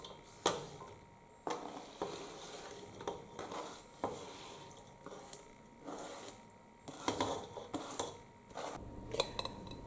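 Vegetables for a seasoned cabbage dish sizzle quietly in a pan while a utensil stirs them, giving repeated scrapes and clinks against the pan in an irregular rhythm.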